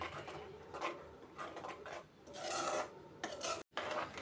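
Ground masala paste for Kottayam fish curry is stirred and sautéed in a pan, giving close, soft rasping scrapes in uneven bursts with brief pauses between strokes.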